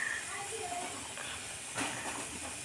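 Potato bhaji deep-frying in hot oil at a street food stall, a continuous close, bright hissing sizzle with a brief swell partway through.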